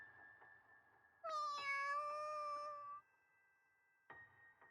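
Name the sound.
cat meowing in video game You and Me and Her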